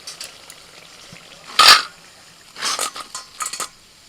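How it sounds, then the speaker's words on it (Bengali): Broccoli pakoras frying in hot oil in a Bengali home kitchen give sharp bursts of sizzling and crackle, with light clinks of a utensil between the louder surges. "উল্টে পাল্টে পকোড়া ভাজা হয়ে গেছে।"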